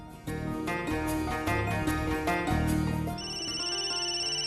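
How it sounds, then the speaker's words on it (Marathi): A telephone rings loudly with a bright, repeating electronic ringtone. The tone pattern shifts to a thinner, steady pulsing near the end, with no talking over it. "आईचा फोन आहे."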